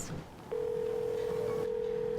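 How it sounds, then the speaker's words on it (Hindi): A phone gives off a steady, sustained electronic tone after a brief quiet moment, fairly faint and continuous until the end, with no one speaking over it. "अब कौन फोन कर रहा है?"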